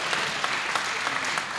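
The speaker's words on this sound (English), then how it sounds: "I tried to hold the applause for some of the others" Steady applause from a crowd at a town hall meeting, dense clapping that holds at an even level throughout with no voices.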